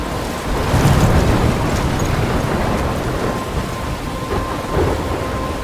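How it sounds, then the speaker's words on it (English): Thunderstorm with steady heavy rain in the video game Life Is Strange, near a lighthouse: continuous rain hiss with deep rumbling thunder swelling early and again near the end, heard alone. "I'm trapped in a storm?"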